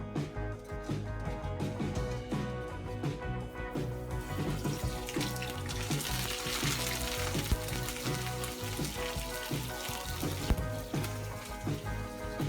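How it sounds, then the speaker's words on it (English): Fish pan-frying in oil for a Chinese-style braised fish gives a steady, dense crackling sizzle that grows louder after a few seconds and continues alone, with no talk. "So here we're letting the fish pan fry, here to sizzle."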